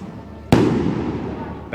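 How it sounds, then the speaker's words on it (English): A single sharp, loud firework blast at a traditional Spanish fiesta, with a rumbling echo that trails off slowly, heard close up. "Spanish do love their fireworks."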